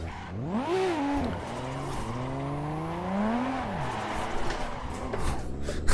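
A car in a video game spins donuts in second gear, the engine note rising and falling in looping sweeps as it revs, with a steady close drone and a faint tire hiss throughout.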